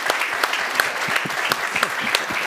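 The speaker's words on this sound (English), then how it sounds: "I think they deserve an extra special round of applause for that" An audience at an Intelligence Squared debate on isolating Russia, held at Brussels Forum, claps in steady, dense applause heard at moderate distance throughout.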